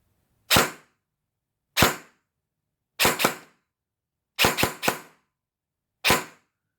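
An airsoft gun fires Aim Point green tracer BBs outdoors: eight sharp, snappy shots, sent as singles, a quick double and a quick triple, each crisp crack decaying fast into silence.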